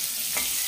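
Tomato frying in a pan gives a brief, even hiss of sizzling oil, steady and close throughout.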